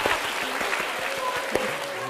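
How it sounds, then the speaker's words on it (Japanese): Audience applause at a Bibigo Party fan event in Japan, a dense, steady wash of many hands clapping close and loud, with faint voices mixed in underneath. "元気だったら拍手。"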